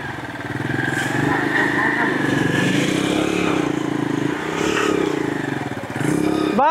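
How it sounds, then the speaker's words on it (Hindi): Two motorcycles rev hard together during a tug of war against an e-rickshaw, a loud, steady engine drone with clattering and scraping, while people talk over the noise. "आप लोग बाइक स्टार्ट कीजिए। दोनों बाइक स्टार्ट हो गया"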